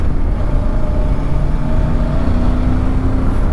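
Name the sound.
VOGE 625 DSX motorcycle engine purring while riding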